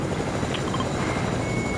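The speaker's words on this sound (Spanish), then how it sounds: "Me lo robé, me robé el helicóptero." A stolen helicopter in a video game hums and whirs steadily, its rotor drone continuous and fairly close, with faint tonal game sounds over it and no speech.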